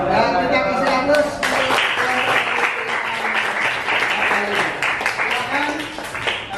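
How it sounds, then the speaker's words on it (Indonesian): An audience of students in a classroom during an Al-Qur'an Hadis lesson, clapping in a dense, sustained round of applause that fades slightly toward the end, with some voices underneath. "Dan kita kasih aplaus."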